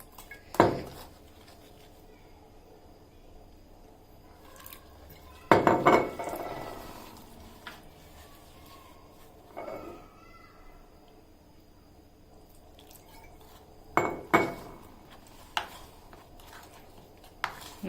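Batter of salt and water being mixed in a bowl for chilli potato, with a spoon striking the bowl in a few sharp, isolated clinks and knocks spread over quiet stretches.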